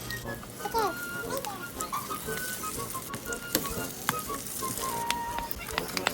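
Chicken frying in two tablespoons of oil in a pan, a close sizzle with scattered pops and crackles, while clanks and other household sounds come and go in the background.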